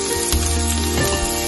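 Crushed garlic sizzles in two tablespoons of hot oil, a dense, steady frying hiss heard close up with no voices.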